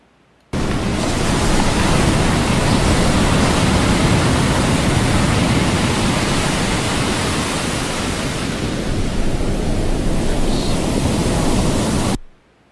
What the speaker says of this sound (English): ocean noise.